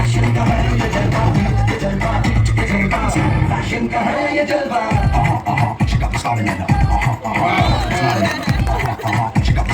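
Crowd at a family fair in Dwarka cheering and shouting loudly, a dense, continuous din with bursts of voices and scattered claps, close and energetic throughout.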